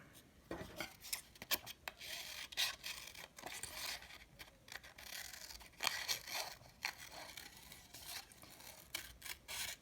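Scissors cutting out a paper mushroom shape for a pizza craft, close, faint snipping and rustling strokes in an irregular rhythm, no talking.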